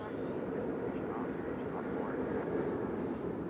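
A United airliner on the runway at Nashville International Airport gives a steady, distant engine rumble and roar that holds even throughout.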